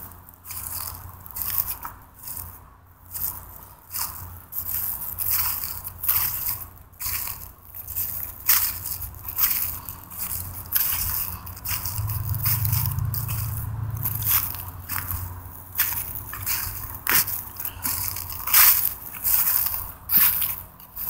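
Plastic litter crunched and handled outdoors, repeated crinkling, crackling and scraping bursts at close range in an irregular rhythm, with a low rumble in the middle.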